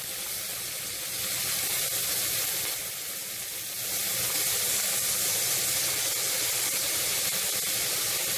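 Tomatoes added to browned onions sizzle steadily in a hot pan for vegetable biryani, a continuous broad hiss of frying that swells slightly midway, close and with no talking.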